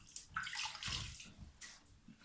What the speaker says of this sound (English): So now I've touched that, I have to wash my hands.